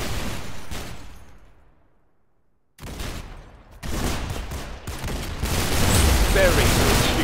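Bursts of rapid gunfire in the Roblox shooter Arsenal on an aircraft map, loud volleys that fade into a near-silent gap before shooting resumes heavier, with a voice talking over part of it.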